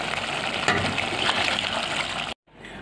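Broth poured into a pot of sizzling tomato sauce and spices for a potato dish, a loud close gush and sizzle running steadily before cutting off abruptly, then a quieter bubbling simmer, with no talking.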